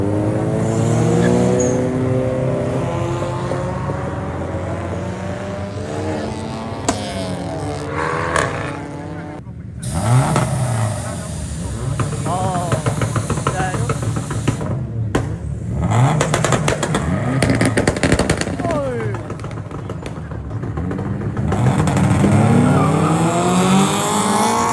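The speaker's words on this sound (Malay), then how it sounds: "Ditapak oleh BMW kat situ" BMW accelerating hard during a street race at night in Kuantan, engine notes sweeping up and down through repeated gear changes, loud and close, with people talking over the roar.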